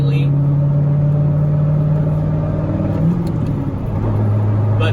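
A straight-piped Corvette Z06 droning in very high gear at low speed, a steady low exhaust rumble with a faint resonance that dips in pitch near the end, close and continuous.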